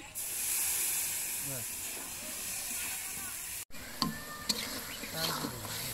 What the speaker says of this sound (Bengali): এখন দিয়ে দেবো মোচা, কষানোর জন্য জল দিয়ে দিচ্ছি